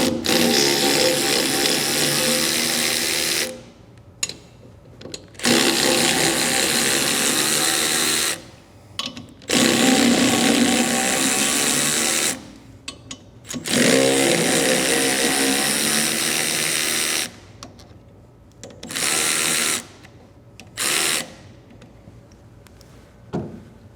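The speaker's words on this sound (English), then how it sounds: "So with the cover off now, we can use our 3/8 ratchet." A 3/8-inch ratchet fitted with a 5/16 Allen bit removes the bolts holding a weedless adapter to a boat motor's outdrive. Several loud, sustained bursts of rapid ratcheting are separated by short pauses.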